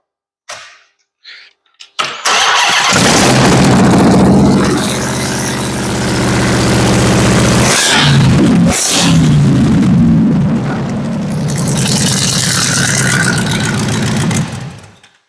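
A Hellcat crate V8 with bright orange valve covers, paired with an 8HP90 transmission, cranks and fires after a few faint clicks, then settles into a loud, steady, rumbling idle that continues close up and alone for over ten seconds.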